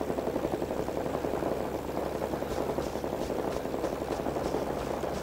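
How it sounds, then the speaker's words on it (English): A helicopter in the Vietnam War video game Rising Storm 2: Vietnam approaches to land, a steady low rotor and engine drone holding at moderate level throughout with no voices. "they're shooting at the helicopter that's trying to land"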